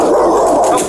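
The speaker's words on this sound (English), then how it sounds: "As officers try to calm the dogs" Dogs bark loudly and close by as officers try to calm them, one sharp burst filling the brief moment.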